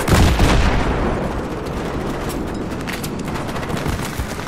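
Gunfire erupts in a Battlefield 3 ambush, a dense rattling barrage opening with a loud burst and continuing as sustained rapid shots and booms throughout.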